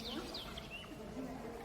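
Small birds chirp inside a birdhouse at a Polish spa resort, a few thin, high tweets scattered over a faint background murmur, heard quietly and at a distance.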